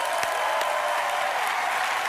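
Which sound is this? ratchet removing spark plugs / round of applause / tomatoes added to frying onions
round of applause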